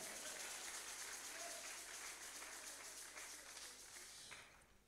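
A church congregation applauds together, a dense steady wash of clapping that holds for several seconds before tapering off near the end, with no voices standing out.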